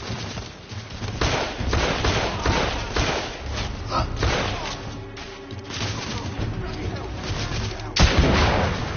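Rifle gunfire in The Order: 1886 battle, dense heavy shots and thuds rattling continuously with a sharp loud blast near the end, mixed with game voices shouting.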